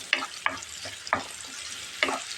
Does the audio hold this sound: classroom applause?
no